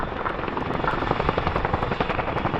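A Chinook helicopter flying a display at the Farnborough air show, its loud, steady rotor thrum with rhythmic blade slap carrying throughout, heard outdoors from the crowd.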